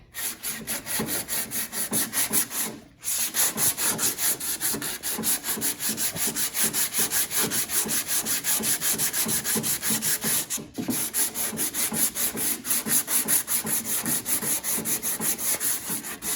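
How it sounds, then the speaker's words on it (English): Steady back-and-forth sanding rasps across a painted car body panel around a dent, close and continuous in quick rhythmic strokes, pausing briefly twice. "So let's keep sanding the perimeter."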